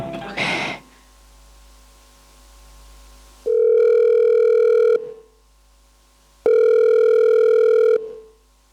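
A telephone line tone plays during a stage drama performance, following an unreachable-number message: two long, steady, loud tones of about a second and a half each, separated by a short silence, after a brief noisy burst at the start.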